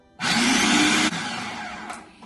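A kitchen blender whirs loudly while blending basil pesto for pasta, starting abruptly and running hard for about a second, then continuing at a slightly lower, steady pitch until it fades near the end.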